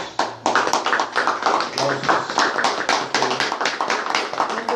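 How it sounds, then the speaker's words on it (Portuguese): Audience applause at a Spanish- and Portuguese-language cultural policy gathering about schools: dense, steady clapping from many hands throughout, loud and close, with no speech over it. "aplausos"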